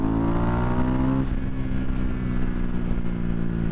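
KTM 390 Duke single-cylinder motorcycle accelerating on a highway, its engine note climbing then shifting and settling into a steady loud drone heard from the rider's position, with no speech.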